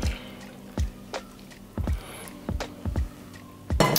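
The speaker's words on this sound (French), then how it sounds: "je rajoute ici la moitié donc en crème de coco" Coconut cream goes into a pot of carrot soup in a series of soft, wet plops and drips, irregularly spaced and close, with a slightly louder splash at the end.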